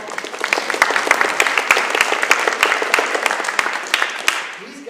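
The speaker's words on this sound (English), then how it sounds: "Give him applause." An audience claps steadily and enthusiastically for several seconds, the dense applause tapering off near the end.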